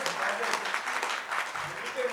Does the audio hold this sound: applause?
yes